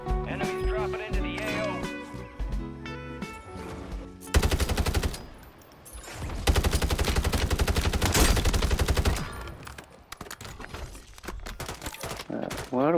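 Heavy automatic gunfire in Call of Duty Warzone, long bursts of rapid shots broken by short pauses, loud and close, with game sounds and chatter around them.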